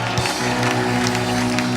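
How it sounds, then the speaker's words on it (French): Church congregation applauding during a sermon, a dense wash of clapping over a steady musical drone and organ-like tones, with scattered voices in the crowd. "Donnez une bonne main d'acclamation."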